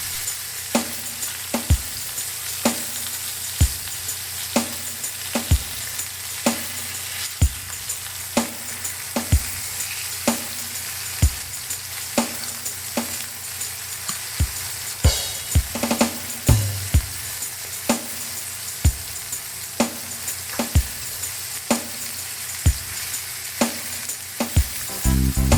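Pieces of liver sizzle steadily in a hot pan, a constant bright hiss with regular clicks and taps from a utensil turning the meat, close and alone without talk.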